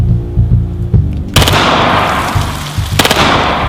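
A Glock 17 pistol rips off rapid automatic fire, two dense bursts of sharp cracks blurring into a loud continuous rattle after a quieter stretch of low background noise.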